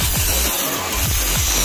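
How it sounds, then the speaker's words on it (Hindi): Angle grinder working over the weld seam on a motorcycle exhaust bend pipe, a steady harsh abrasive rasp with rhythmic scraping passes, close and continuous throughout. "तो ये यहाँ पे चल रही है ग्राइंडिंग"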